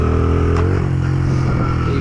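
A stunt motorcycle engine holds a steady, loud throttle throughout, with a continuous close-up drone and a brief rev change partway through.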